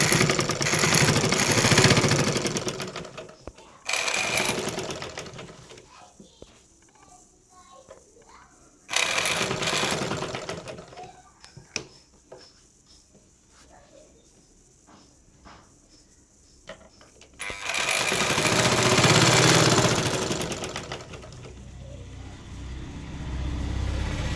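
Sewing machine stitching a box-pleated pinafore uniform skirt, bursts of fast rhythmic mechanical whirring separated by quieter stretches of fabric handling, close and fairly loud.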